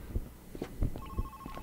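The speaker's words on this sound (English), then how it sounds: "Oh, there's a phone or something there." A telephone rings in the stealth heist video game Monaco, a steady electronic tone repeating under low thumping footsteps and game sounds, moderately quiet.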